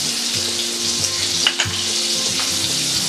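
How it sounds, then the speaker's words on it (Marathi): Butter, added over a little oil, melting in a hot pan for paneer butter masala gives a steady close sizzle, with soft clinks and low thumps from the pan underneath, no voices. "बटर मेल्ट व्हायला द्यायचं आहे"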